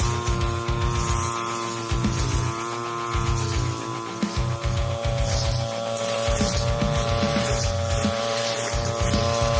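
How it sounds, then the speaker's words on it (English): A 2-stroke brush cutter engine drones steadily while cutting grass on a plantation, its buzzing whine holding a constant pitch with slight pulses, close and loud, with no talking. "The tool used here is a 2-stroke brush cutter"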